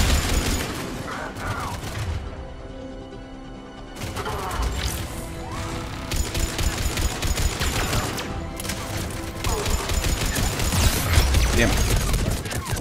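Turret gunfire in the Mass Effect 3 demo, with dense bursts of rapid automatic shots and crashing impacts that come in waves, loud and continuous with short lulls, and someone talking over parts of it.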